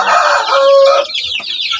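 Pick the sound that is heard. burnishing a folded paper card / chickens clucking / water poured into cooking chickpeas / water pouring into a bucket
chickens clucking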